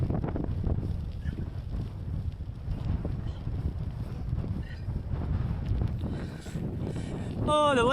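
Strong wind gusting across a bike-packing trail, a heavy, continuous low rumble buffeting the microphone, loud and close, with a brief whistling tone near the end.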